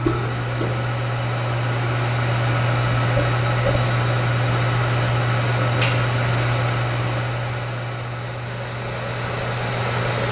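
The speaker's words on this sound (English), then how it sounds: "You can see the furnace is now operating, and it's producing some pretty good heat." A waste motor oil furnace runs with a steady, even roar and hum, a continuous drone with a strong low tone that holds unchanged throughout, with no talking.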